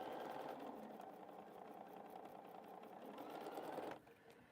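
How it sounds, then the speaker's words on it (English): A sewing machine runs steadily, joining quilt binding strips made from scraps of another T-shirt quilt, a continuous humming whir that stops abruptly near the end; faint and close. "I wanted to sew these binding pieces together before I change my thread to stitch in the ditch"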